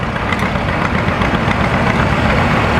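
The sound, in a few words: vintage John Deere B two-cylinder tractor engine running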